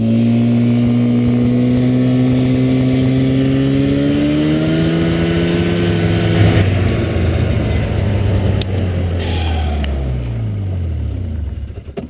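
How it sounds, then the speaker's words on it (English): A snowmobile engine running steadily and loud up close, its droning pitch rising as it pulls away, then dropping and fading near the end. "We'll head on out there with the snow machine and watch his takeoff."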